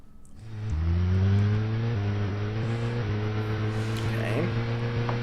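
Car engine droning steadily while driving in Deadly Premonition, a low humming tone with rising harmonics as it accelerates, loud and continuous from the start with a slight pitch shift near the end.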